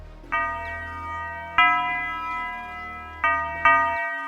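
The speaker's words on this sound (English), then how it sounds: "Then I added these bells. So there's two bell patterns." Bright bell notes strike in a simple repeating pattern in a hip-hop beat, four hits ringing out over a soft, low beat without any talking.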